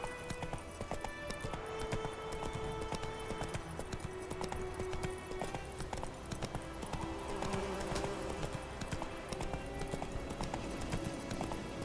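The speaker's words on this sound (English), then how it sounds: "I love how my horse's name is Roach." A horse's hooves clip-clop at a steady gait in The Witcher 3: Wild Hunt, the rhythmic footfalls continuous over a layered game soundscape with tonal music underneath.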